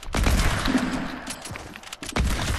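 Rapid bursts of gunfire crackle through a video game match, dense overlapping shots with sharp louder cracks near the start and end, filling the short stretch without pause.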